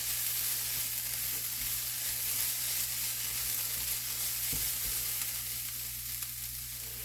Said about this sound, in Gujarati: આ રીતે આપણે હલાવતા જ રહેવાનું છે। નીચે ચોંટે નહીં તેનું ધ્યાન રાખવાનું છે।